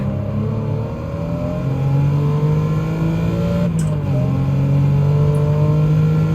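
A racing car engine in the video game Gran Turismo 7 hums steadily and shifts pitch as it revs up and eases off, with a faint synthetic quality, continuous and close.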